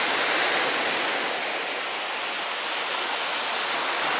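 Lakeside waves washing toward the shore, a continuous dense rushing wash of water close by with no distinct breaks and no voices.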